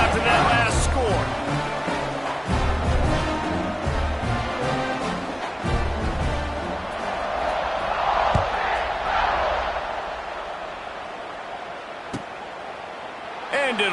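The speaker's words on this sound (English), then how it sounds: "this crowd is buzzing after that last score" Stadium crowd in the College Football 25 video game buzzing steadily at a distance, a broad continuous roar with swelling surges, while game commentary talks over it.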